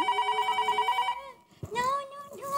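A telephone rings with a repeated electronic trill, loud and close, then cuts off as voices start talking.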